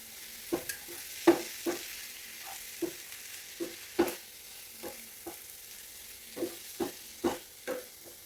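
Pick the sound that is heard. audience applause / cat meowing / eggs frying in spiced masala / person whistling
eggs frying in spiced masala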